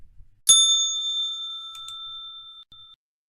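A single bright bell strike rings out clearly and decays slowly over about two seconds, with a faint second tap partway through, in otherwise near silence.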